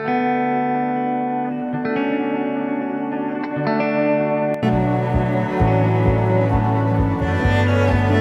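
A layered, sustained musical wash of tones from dishwasher sounds run fully through delay, with repeating echoes blurring the notes; a deeper, fuller section enters midway and continues steadily.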